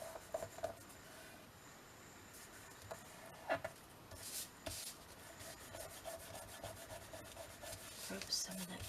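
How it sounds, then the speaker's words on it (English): Quiet dry rubbing and scraping as a finger works glue off a journal page, in short irregular strokes with a few louder scuffs, close and soft, with no talk. "Rub some of that glue off."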